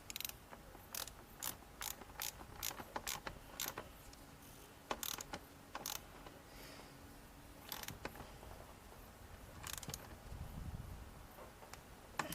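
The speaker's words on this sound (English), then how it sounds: "Tighten up the pinch bolt." Ratchet tightening the front pinch bolt on a Honda X11 motorcycle, a quick series of faint clicking strokes, irregular bursts with short pauses between them.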